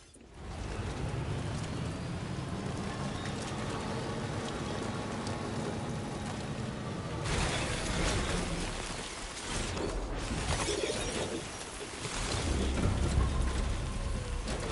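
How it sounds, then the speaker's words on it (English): Steady heavy rain pours in the video game Death Stranding 2, with rolling thunder swelling midway and again near the end, loud and continuous with no speech. "Look at the rain. Wow."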